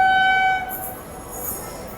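A Prayagraj–New Delhi Humsafar Express, a nonstop train, passes during an overtake, opening with a steady horn blast that cuts off and gives way to a broad, close rumble and rush of passing coaches.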